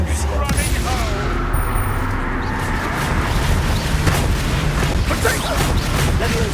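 Spell blasts in the video game Hogwarts Legacy, a dense stretch of booming magical impacts and crackling bursts layered over game effects, loud and continuous.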